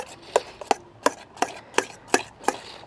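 Colgate toothpaste slime being beaten in a bowl, a run of eight evenly spaced sharp taps with wet scraping in between, close and steady, no voices.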